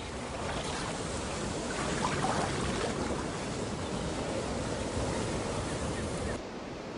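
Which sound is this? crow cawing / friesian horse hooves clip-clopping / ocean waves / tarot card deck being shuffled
ocean waves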